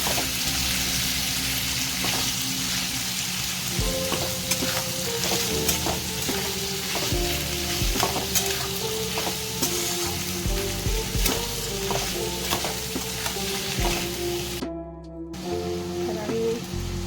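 Onions frying in a pan with a little salt, a steady sizzle throughout with scraping stirs and a sustained musical hum underneath, briefly cutting out near the end.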